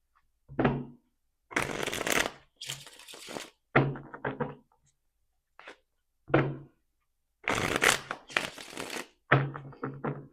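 A tarot card deck is shuffled by hand in several separate riffles and quick flutters, each a crisp papery burst lasting about a second, with brief silent gaps and a few light taps between them, close and alone.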